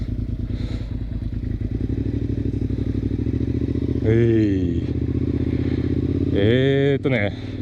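A Suzuki SV650 motorcycle engine rumbles steadily up close, rising twice in pitch as it revs and accelerates.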